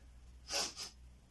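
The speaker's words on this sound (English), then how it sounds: "Sorry about the sniffs" Two quick nasal sniffs, close and fairly soft, the first stronger than the second, heard during a quiet exercise session with no talking.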